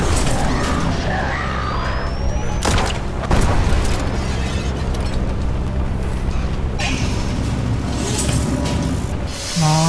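Weapon fire in the video game In Sound Mind: a handful of sharp, loud blasts and booms burst over a dense, continuous roar of combat noise, close and busy.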